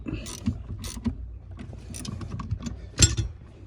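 Bolt tightened with a 13 mm wrench while fitting a right-hand drive pedal kit, heard as a run of close metallic clicks and ratcheting taps with one louder clank near the end, irregular and sparse.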